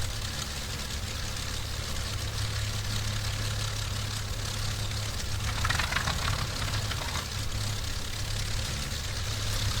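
A P-40C fighter's piston engine in the IL-2 combat flight simulator runs after start-up, with a loud, steady, rumbling drone and low throbbing that holds for about ten seconds.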